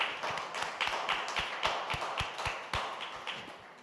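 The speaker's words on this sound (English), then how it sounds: "I will just conclude by a small round of applause for our speakers" A small round of applause for speakers closing a climate knowledge session, sparse individual claps ringing out at an irregular, slightly slowing pace, with no talk over them.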